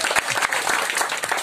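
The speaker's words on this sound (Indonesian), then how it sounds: "Yang setuju boleh dong tepuk tangan yang meriah buat Tuhan Yesus." A church congregation claps together in a lively burst, dense overlapping hand claps filling the room for a moment, close and fairly loud.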